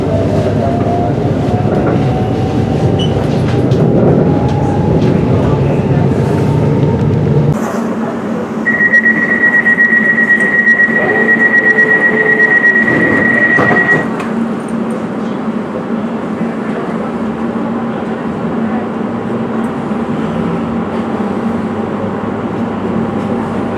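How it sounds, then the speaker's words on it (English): A London train bound for Paddington rumbles loudly along the rails near Ilford, with a steady low roar, clickety-clack and a sustained high whine partway through as the carriage runs on. "This is the train to Paddington."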